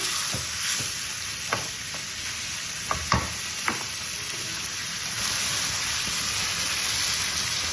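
Cinnamon, cardamom, cloves and onion sizzle steadily in oil for a shapla fish curry, a constant hiss broken by a few sharp clicks and pops from stirring, with no voices.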